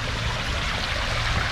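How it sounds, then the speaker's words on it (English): Water spills steadily over a backyard pondless waterfall with a spillway, fed by an Aqua Surge pump, giving a soft continuous trickling rush with a low churning undertone and no voices. "so the waterfall"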